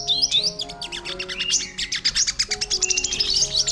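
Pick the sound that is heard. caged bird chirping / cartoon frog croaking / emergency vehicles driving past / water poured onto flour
caged bird chirping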